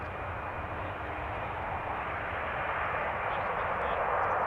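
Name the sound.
aircraft at Amsterdam Schiphol Airport runway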